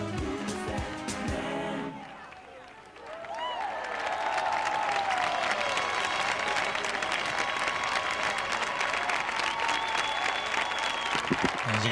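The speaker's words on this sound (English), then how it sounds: "many of the crowd on their feet, applauding the couples here after their final dance of the evening" An audience at a 2003 European Championship dance final applauds the couples after their last dance of the evening, a dense sustained roar of clapping and cheering from a large crowd, briefly dipping before swelling steadily and staying loud.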